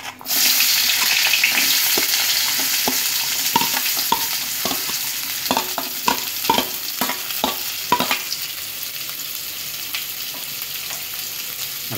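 Medium chopped onions frying and being stirred in a pan for radish sambar: a steady sizzle with a run of clinking spoon scrapes in the middle, close and without speech.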